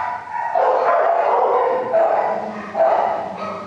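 A 9-year-old spayed female Jack Russell Terrier mix barks in a run of loud, close yips and barks separated by short gaps, with no voices.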